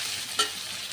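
Ginger paste frying in oil with spices gives a low continuous sizzle with one brief scrape or stir in the middle, close and quiet.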